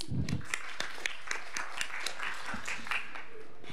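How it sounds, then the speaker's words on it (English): Scattered audience clapping at an agriculture and food deans' meeting, a sparse patter of distinct claps from a modest crowd, fairly faint and roomy. "Round of applause, please."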